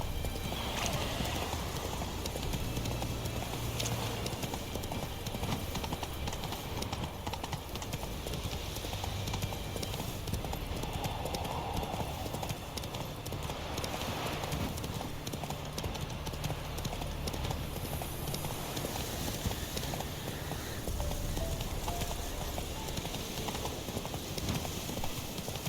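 Horse hooves clip-clopping steadily in The Witcher 3, a continuous rhythmic trot under a dense, constant game soundtrack, with a brief whinny and occasional faint talking.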